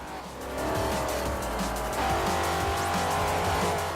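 Muscle cars race in a video game, engines roaring loud and continuous as tires squeal and skid through corners, with no talk over the sustained din.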